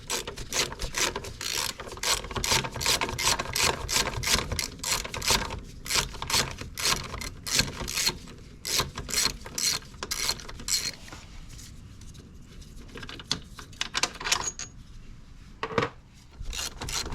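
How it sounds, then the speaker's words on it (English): A hand ratchet loosens front brake caliper bolts on a Honda Goldwing motorcycle, giving a long run of close, rhythmic clicking strokes that slows and thins out toward the end. "Switching over to a ratchet."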